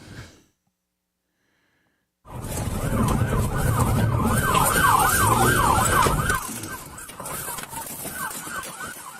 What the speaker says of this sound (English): Sirens are really loud.